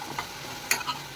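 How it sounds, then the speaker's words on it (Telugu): A spoon stirs food seasoned with salt in a cooking pan, giving a few soft scraping strokes over a faint sizzle, close and fairly quiet with no voices. "ఇప్పుడు దీన్ని బాగా కలుపుదాం ఫ్రెండ్స్"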